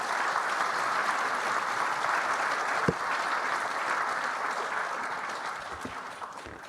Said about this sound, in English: please join me in a round of applause to the wonderful panelists for the session